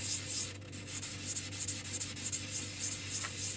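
Hand sanding of a Petoskey stone, a steady close-up rubbing and scraping with a continuous rasp and faint rhythmic strokes, heard on its own without talk.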